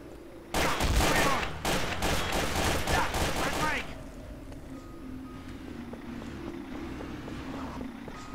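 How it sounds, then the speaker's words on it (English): Rapid automatic gunfire from a video game, a loud, dense burst of about three seconds that then stops, leaving low background hum. "Jonas, why are you shooting us?"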